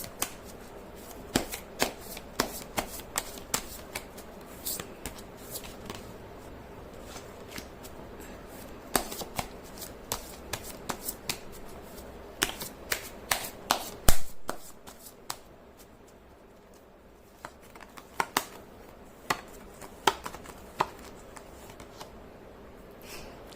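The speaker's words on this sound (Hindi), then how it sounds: "कर लेती हूँ कार्ड की शफलिंग।" Tarot cards being shuffled by hand in a quiet indoor setting, a steady run of soft riffling and sharp card slaps in irregular bursts, close and alone with no talking.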